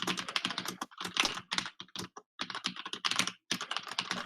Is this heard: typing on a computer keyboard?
yes